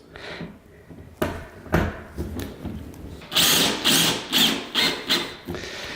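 A power drill whirs in several short bursts, driving screws with pauses and clunks between, close by with no talking.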